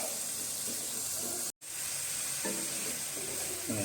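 Chives sizzle steadily in a hot frying pan with a dense, continuous crackle, broken by a brief silent gap; later a few scraping stirs with a spatula rise over the frying.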